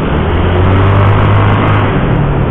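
A motorcycle riding on the road and turning, its engine humming steadily and loudly close by with constant wind and road noise.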